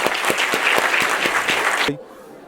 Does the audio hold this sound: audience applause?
yes